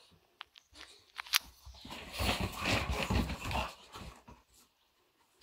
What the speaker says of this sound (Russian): О, он гавкать умеет, слышишь как?